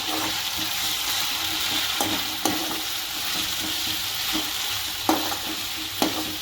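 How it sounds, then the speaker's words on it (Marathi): Ginger garlic paste sautés with browned onions in a home pan for chicken biryani: a continuous, fairly loud sizzle broken by occasional sharp spoon scrapes and clinks, with no talking. "दोन मिनटं ना चांगलं परतून घेणार आहे मी तर आता अद्रक लसूण पेस्ट ना परतून घेतलेली"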